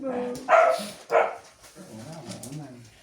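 A dog barks twice, loud and nearby, with softer whimpering sounds and background talk in between.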